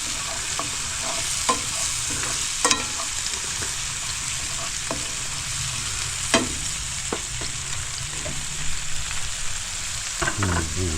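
Mushrooms fry in butter in a pan at an off-grid riverside camp by the Tug Fork River in Kentucky, with a steady soft sizzle broken by scattered clicks and scrapes of stirring.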